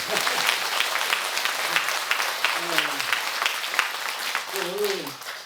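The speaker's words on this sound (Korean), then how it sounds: "여덟 명에서 박수 한번 쳐주시죠." Applause from a seated audience at a religious lecture hall, a steady dense clatter of clapping hands that holds through the whole stretch, with a couple of brief voices rising faintly underneath.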